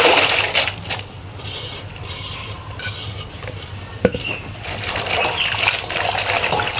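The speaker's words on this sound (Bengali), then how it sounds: "চাউল ডাউল এগুলো ধুয়ে নেব।" Rice and lentils being washed in water by hand for a vegetable khichuri, with steady sloshing, stirring and trickling, a sharp clink partway through, and close splashes that grow busier toward the end.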